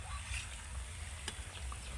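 Crisp potato snack pieces deep-frying in oil make a steady bubbling sizzle with fine crackles and a low rumble, fairly quiet and close, plus one brief tap midway.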